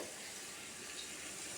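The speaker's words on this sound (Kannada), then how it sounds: "ಈ ಚಂಬಲ್ಲಿ 5 ಚಂಬು ನೀರು ಹಾಕೋಣ." Water pours steadily from a small pot into a large vessel to soak rice, a continuous close rushing and splashing with no voices.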